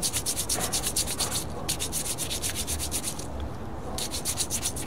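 Rhythmic rubbing of coal oil into nitrile gloves, a steady scrubbing swish repeating about twice a second, close and fairly loud, pausing briefly midway before resuming, with no talk.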